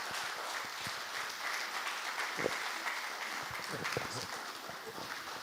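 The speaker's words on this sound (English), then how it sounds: "I think we can make the applause better." Audience applause following a lecture at an annual lecture event in Nigeria, a steady wash of clapping from a large hall at moderate level, continuous throughout with some faint voices mixed in.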